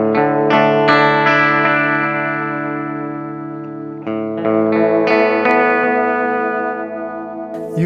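Electric guitar chords struck and left to ring through an Xvive Echoman Mini analog delay pedal, each decaying into delayed repeats with a faint vibrato wobble in the tail, two groups of strums, loud and unaccompanied by speech.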